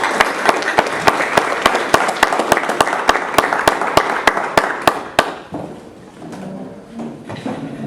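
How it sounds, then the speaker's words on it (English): An audience at a talk on Fatima and the Kingship of Christ bursts into applause welcoming Mr. Joseph Bocca, a dense run of sharp claps that ends abruptly after about five seconds, followed by quieter room noise. "You all clap so soon as though I'm going to be any good."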